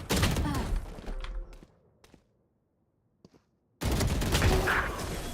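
Gunfire in a competitive 2v2 esports shooter match, with a rapid burst of shots, then near silence broken by a couple of isolated cracks, then a loud renewed volley; no clear talk.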